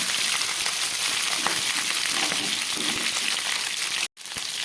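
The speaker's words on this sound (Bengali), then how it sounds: "সমস্ত সবজিগুলোকে আমি খুব ভালো করে ভেজে নিচ্ছি।" Potato, cauliflower and pointed gourd fry together in a large pan, giving a steady, dense sizzle with crackling pops that runs unbroken at moderate loudness and drops out briefly near the end.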